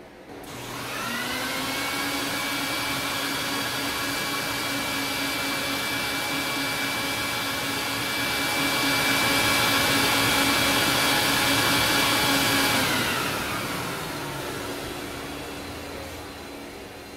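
A loud, steady carpet extraction vacuum motor whine starts up while cleaning urine from an Oriental rug, runs continuously at full power with a constant high hum, then winds down near the end.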